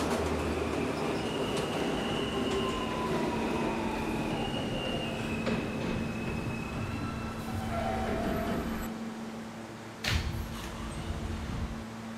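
A Roblox PTA R160A subway train on the F local runs steadily in a video game, with a continuous loud rumble, a sustained hum and faint wheel squeals, and a brief clunk near the end.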